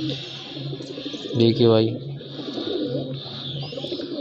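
A pigeon sits on a rooftop and gives a short, close cooing call midway, with soft chirps and faint ambience around it, while someone speaks briefly.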